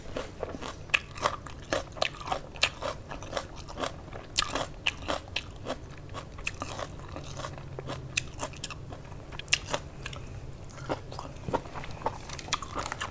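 Close, crisp biting and crunching of fresh raw vegetables eaten with a spicy Thai-Lao raw beef salad and sticky rice, with steady chewing and irregular crunches throughout.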